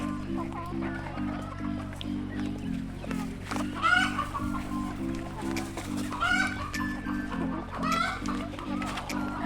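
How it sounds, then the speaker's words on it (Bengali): Free-range desi chickens grazing on grass at a native chicken farm, clucking and calling repeatedly at close to middle distance over a steady low mechanical hum, with a regular pulsing tone running beneath. "আর এই সাইডে কিছু মুরগি ঘাস খাচ্ছে"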